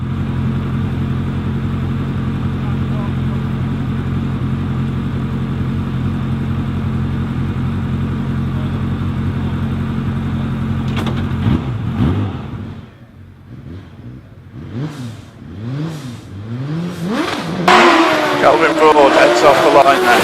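A race car at the Prescott hillclimb, during the Midland Hillclimb Championship, launching off the line: a steady engine drone gives way to a loud launch, with revs sweeping up and dropping repeatedly through the gear changes as it pulls away.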